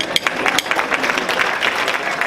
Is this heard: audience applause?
yes